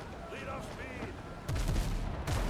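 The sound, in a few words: ship cannon fire in pirate video game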